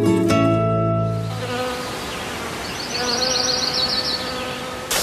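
Honeybees at a beekeeper's apiary in central Taiwan buzz steadily and close, a dense droning hum that swells and continues throughout after a brief tonal sound at the start.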